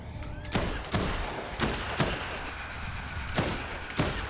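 Repeated assault rifle gunshots in the video game Dead Island 2 ring out in a steady series of sharp cracks, about one every half second, over a constant background rumble.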